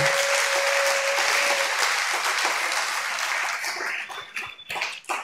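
A church congregation applauds loudly and continuously, a dense wash of clapping that thins into scattered claps toward the end.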